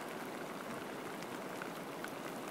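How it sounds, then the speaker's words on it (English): Heavy rain falls steadily at an outdoor long-range shooting spot. It is a dense, even hiss of drops that stays constant and fairly faint throughout, with no voices. "Pissing rain."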